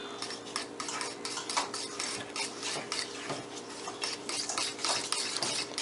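Garlic stirred into a matzah lasagna mixture with a utensil in a bowl makes continuous rhythmic scraping and rubbing, close and moderately loud, with no voices.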